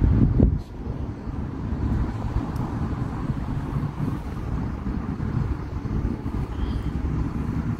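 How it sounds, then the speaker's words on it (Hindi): Cool wind blows outdoors, a steady low rumbling roar buffeting the microphone continuously, loud and close, with a stronger gust at the start and no talk. "यहाँ पे आज माशाल्लाह ठंडी ठंडी थोड़ी हवा चलना शुरू हो गई"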